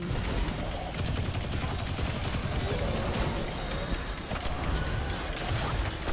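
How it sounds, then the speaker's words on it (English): Submachine gun fire in Destiny 2, dense rapid bursts with a constant loud rattle and mechanical clatter, nearly uninterrupted over busy game sound. "I do love this SMG."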